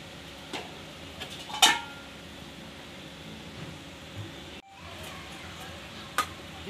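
Bhakur fish pieces fry in a pan over medium gas. A soft, steady sizzle runs under a few sharp clinks of a utensil against the pan, with one brief pause.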